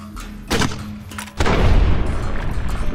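A grenade launcher fires in Fallout New Vegas: a sharp boom near half a second, then a second heavy explosion with a long rumbling tail that fills the rest of the moment.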